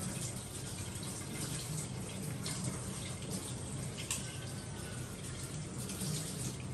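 Sandy spinach leaves are rinsed one by one under a running kitchen tap, giving a quiet, steady stream of water with faint splashes and drips close by and no talking.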